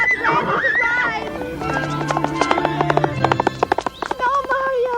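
Horses neigh and clip-clop in an animated adventure scene, with a whinny at the start and a quick run of hoof clops toward the end, mixed with voices and music.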